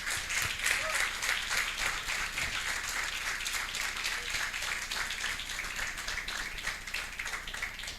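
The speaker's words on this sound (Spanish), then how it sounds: "Dale un fuerte aplauso al Señor" A church congregation applauds steadily and fairly loudly, a dense wash of many hands clapping that continues without a break from start to finish.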